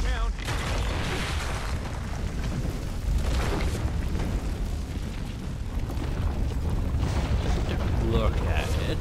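A building burns and collapses in the video game Far Cry 3: a continuous loud roar of flames and rumbling with repeated deep booms and crashes, dense and unbroken throughout.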